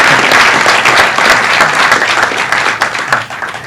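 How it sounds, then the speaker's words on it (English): Audience at an art exhibition award ceremony applauds steadily for nearly four seconds, a dense, loud wash of many hands clapping that fades slightly toward the end. "give him another round of applause"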